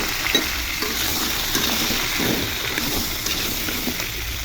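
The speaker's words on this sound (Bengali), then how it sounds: "এখন পটলগুলো ছেড়ে দিব। একটু লবণ হলুদ দিয়ে ভেজে নিব।" Slit pointed gourds fry in hot oil with salt and turmeric, giving a steady, moderate hissing sizzle throughout with faint soft stirring sounds.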